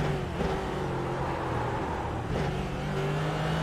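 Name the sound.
race car engine in racing video game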